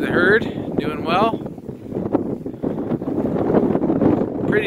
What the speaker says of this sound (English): Pretty day, pretty windy though.